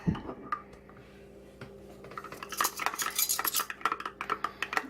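A metal measuring spoon stirring an essential oil blend with almond oil in a small container, quiet at first, then a quick run of close, bright clinks and scrapes.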